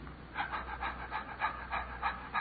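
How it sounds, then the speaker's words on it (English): A man demonstrating breathing produces quick, rhythmic breaths, about eight soft huffs in a steady pattern, close and fairly clear with no talking. "Now, there's ordinary breath,"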